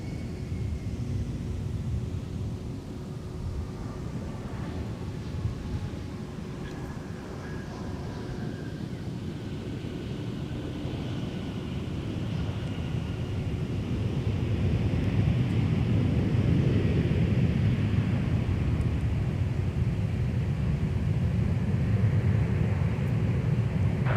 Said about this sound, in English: Next up for arrival on runway 12 right, Delta 2521 from Raleigh-Durham. It's an Airbus A320, an ex-Redtail.